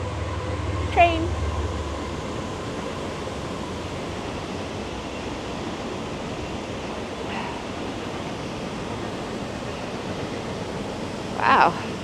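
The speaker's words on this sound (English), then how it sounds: "Train." A train rumbles past near Multnomah Falls at night in a steady, broad roar that fills the whole stretch, with brief higher squeals at moments and a person's short remark early on.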